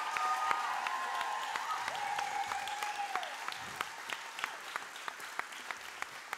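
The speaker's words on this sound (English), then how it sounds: "Can I have a big applause again?" Audience applause at an Indigenous Liberation Day gathering, a steady mass of clapping with sharp individual claps standing out, a sustained tone audible under it early on before fading.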